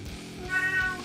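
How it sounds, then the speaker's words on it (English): A hungry cat gives a single clear meow nearby, short and rising, with no talk over it. "my cat's getting hungry"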